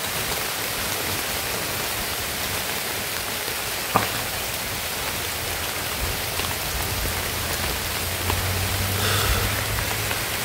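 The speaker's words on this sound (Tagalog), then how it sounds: "Kasi lumalakas na yan ang ulan mga idol." Heavy rain pours down in a dense, constant hiss, drumming evenly on surfaces throughout with a faint thud partway through.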